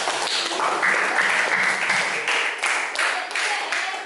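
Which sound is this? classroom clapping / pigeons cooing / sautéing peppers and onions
classroom clapping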